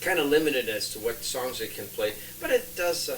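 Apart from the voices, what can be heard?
No everyday noise stands out behind the speech.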